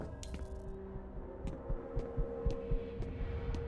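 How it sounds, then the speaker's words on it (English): Heartbeat in the video game F.E.A.R., a soft rhythmic thumping at a steady pace under a low droning hum, with faint clicks layered on top. "Why is our heartbeat going?"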